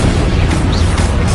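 A Confringo explosive spell blast from the Hogwarts Legacy video game: a loud, dense, sustained burst filling the short moment with a rumbling roar.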